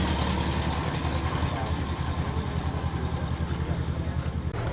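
Morris Marina with a B-Series engine idling at a classic car show, a steady low burble running loud and continuous throughout with no talking.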